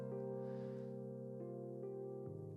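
Sustained piano chords ring out with layered, slightly noisy tones, a new chord struck near the end; no voices.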